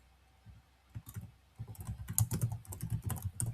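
Test code is typed on a computer keyboard: after a quiet start, clusters of close, crisp keystrokes grow denser and louder, clicking in an irregular rhythm.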